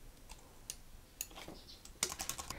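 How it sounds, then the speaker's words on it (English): Typing on a computer keyboard: light, irregular key clicks close by, sparse at first, then a quicker burst of taps near the end, with no talking. "Simply click on the text that you want to change and start typing."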